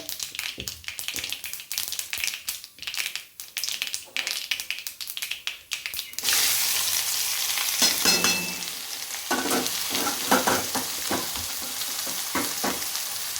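Onions and green chilies hit hot oil and burst into a loud, steady sizzle, with a few stirring scrapes while elephant foot yam is being tempered; before that, talk and clatter in a kitchen.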